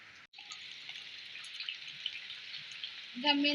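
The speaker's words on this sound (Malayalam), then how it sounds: "കാറ്റും മഴയും" Steady rain hisses continuously at a moderate level, with a brief dip near the start and a soft knock at the end.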